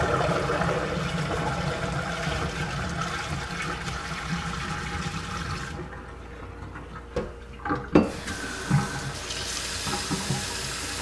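Tap water runs steadily at close range while hot water is prepared for brewing beer, then cuts off, leaving a few knocks and clatters as the flow stops.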